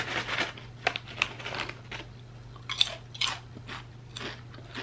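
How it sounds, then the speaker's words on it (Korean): Crispy truffle-flavored potato chips crunched in close-up bites, a series of sharp irregular crackles over a steady low hum, with no talking. "근데 진짜 바삭해. 나 이렇게 바삭한 감자칩 처음 먹어봐."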